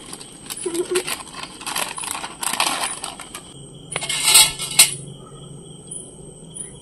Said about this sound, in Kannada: ಪ್ಯಾಕೆಟ್ ಹೊಡೆದು ಅದನ್ನು ಪುಡಿ ಮಾಡಬೇಕು. ಪುಡಿ ಮಾಡ್ತಾ ಇದ್ದೇನೆ.